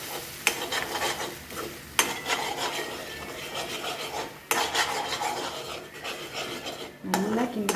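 Boiled moong dal is stirred and scraped in a pan, rough rasping strokes repeating with a few sharper knocks, close and moderately loud over a faint sizzle, with brief traces of a voice.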